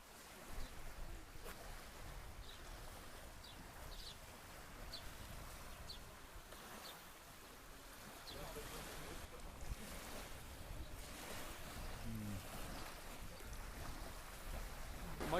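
Choppy water laps along the shore of Loch Lomond beneath steady wind buffeting the microphone, a continuous rough wash with no voices.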